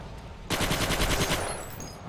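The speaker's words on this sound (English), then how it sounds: "I guess the machine gun got him first." A burst of rapid machine gun fire in the World War II shooter Forgotten Hope 2 starts abruptly and rattles for about a second, loud and close, then fades into ambient noise.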